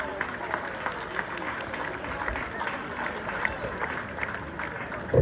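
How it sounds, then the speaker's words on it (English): Outdoor crowd applause at the Ballinamore festival opening, a moderate, scattered clapping that carries on steadily, softer and less dense than a full ovation. "I want to give them an extra round of applause"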